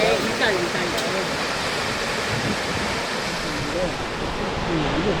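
Jaein Waterfall on the Hantan River, swollen after heavy rain, roars as a dense, steady wash of falling water, loud and unbroken throughout, with faint voices in the background.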